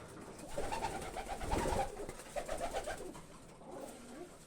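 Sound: Budapest breed pigeon cooing

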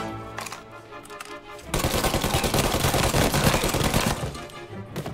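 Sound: gunfire in the video game Mafia: Definitive Edition

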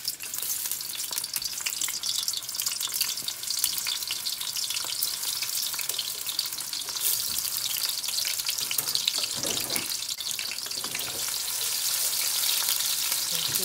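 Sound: onions frying in olive oil

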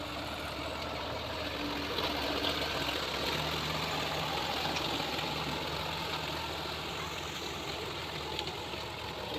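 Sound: Sonalika tractor with rotavator puddling a paddy field

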